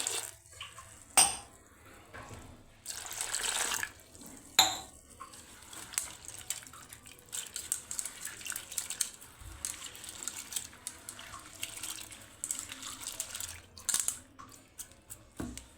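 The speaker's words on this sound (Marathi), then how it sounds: "आता याच्यामध्ये आपण पाणी टाकून याला स्वच्छ धुवून घेऊया" Mixed pulses being rinsed with water in a vessel, with splashing, dripping and repeated clinks of the pot and utensils at close range; no one talks.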